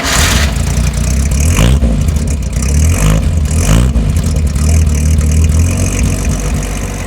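A car engine cranks and catches, then settles into a steady, loud idle with a couple of brief revs, heard up close in a garage during a pre-purchase inspection, with no talking.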